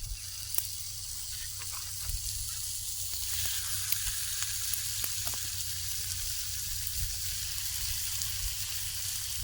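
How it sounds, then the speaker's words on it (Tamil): Masala-marinated murrel fish sizzles steadily in a lightly oiled hot pan, a continuous close hiss with scattered small pops and crackles throughout. "லைட்டாக ஆயில் போட்டிருக்கிறோம். மசாலாவில் ஊற வச்ச மீனை போட்டுக்கலாம்."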